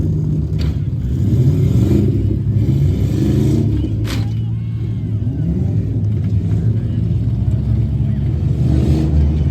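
Demolition derby cars at an Upperco MWFA class event rumble and rev continuously up close, with a few sharp impact thuds from collisions and an announcer talking over the engines.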